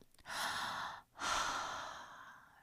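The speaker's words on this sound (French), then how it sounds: "vous pouvez inspirer aussi par la bouche. De cette façon." Two long, airy inhalations through the mouth during a breathwork session, close and fairly loud, separated by a brief pause, with no talking.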